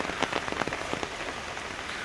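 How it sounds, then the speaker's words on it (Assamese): Heavy rain beats steadily on surfaces in a storm with gusting wind, a dense continuous wash of near drops with scattered sharper splashes and no voices. "বৰষুণ দি আছে ধুমুহা বতাহ"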